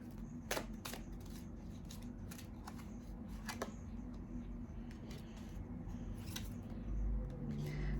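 Tarot cards being shuffled and pulled by hand, with faint, close riffles and soft flicks in short bursts against a quiet, low background hum.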